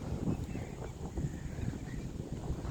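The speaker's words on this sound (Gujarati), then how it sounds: "પવન એવો આવે છે" Steady wind sweeps across open farm fields at dusk, a continuous low rumble buffeting the microphone with no break for the full stretch.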